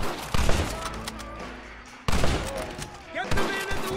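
Gunfire rings out in a Red Dead Redemption shootout: sharp volleys of shots crack in bursts, fall away for a moment, then resume with further scattered blasts and echoing reports.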